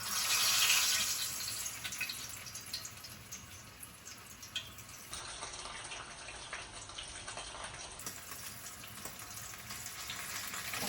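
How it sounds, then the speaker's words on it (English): Chicken taquitos sizzle steadily in hot oil, a continuous broadband crackle and hiss close by with no talk, starting a little louder and settling into an even fry. "so now we're going to drop them into the oil."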